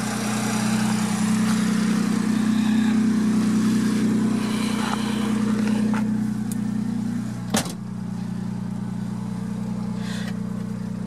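A 1967 Mercedes-Benz 250SL engine hums low and steady from inside the car as it drives, with a brief thump partway through and faint rattles.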